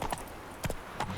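Roach the horse trotting in The Witcher 3, with three distinct hoof clip-clops spaced evenly across a short stretch, fairly close and moderately loud, no voice over them.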